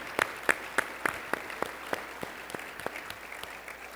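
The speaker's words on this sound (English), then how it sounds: "Let's give them all a round of applause." An audience at a school district State of the City event gives a round of applause, a light scattering of distinct claps, sharp at first and thinning toward the end, without speech.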